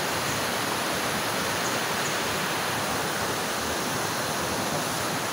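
Steady broadband rush of a river flowing through a high valley between two mountains, continuous and fairly loud with no pauses, like close rushing water.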